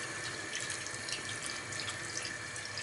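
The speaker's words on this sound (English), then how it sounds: "then you're gonna pour in some water" Water pours into a pan of steak and vegetables as a steady hissing rush, constant and moderately faint across the whole moment, with no voices.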